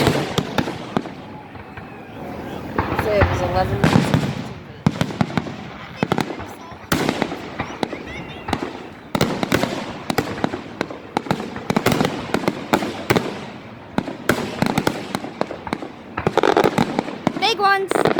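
Fireworks explode over a beach on Canada Day in a rapid, loud string of booms and crackling bursts throughout, with people talking and cheering between the blasts.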